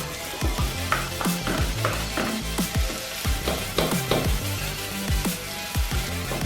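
Onions frying in melted butter in a saucepan, a steady sizzle with repeated stirring scrapes and clinks of a utensil against the pan, close up and with no talking.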